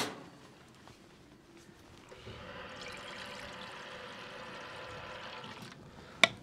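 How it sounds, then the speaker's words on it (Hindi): Water poured from a bowl into a mixture while preparing a fish fry, starting faint, then a steady splashing pour for several seconds before stopping with a short knock near the end. "ये बॉल से जो मैं पानी डाल रहा हूँ ना"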